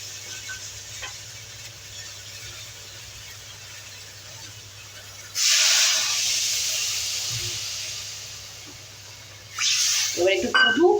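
Water is poured into a hot pan of tilapia and eggplant curry, setting off a loud sizzling hiss that flares up, holds and fades before a second sharp sizzle near the end.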